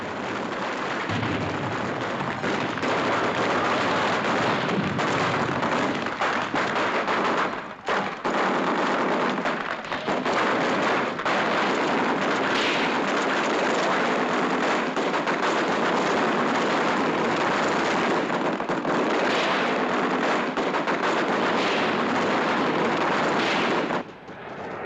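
Platoon gunfire from a war film as the soldiers advance into a town, a dense, loud, continuous barrage of shots and blasts that barely lets up and falls away only at the very end.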